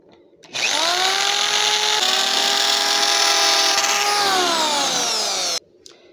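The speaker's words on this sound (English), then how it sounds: "we have to finish drilling a hole all the way through" A power drill bores a hole through a metal pole on a heavy base frame, one loud continuous whining run of about five seconds with the motor pitch stepping down as it loads, starting and stopping abruptly.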